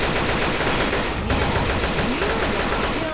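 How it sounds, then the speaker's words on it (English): Gunfire in the video game Left 4 Dead 2, Dead Center level, forms a continuous, loud clatter of rapid shots that fills the whole stretch without pause. "Can you stop shooting?"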